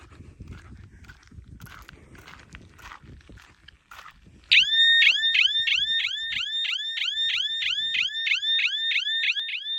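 After a few seconds of faint rustling and footsteps, a loud electronic cattle grid alarm for scaring off dogs bursts on in Coober Pedy, repeating a rapid rising whoop over and over, close by.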